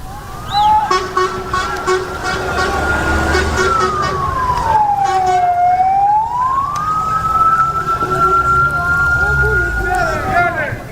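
An ambulance siren wails loud and close at the scene of an attack on Gaza, a sustained tone that sweeps down and back up over several seconds, over a busy background of street noise and voices.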